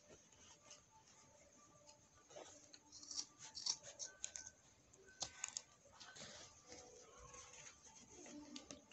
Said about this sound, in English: I'm going to be trimming off the excess I have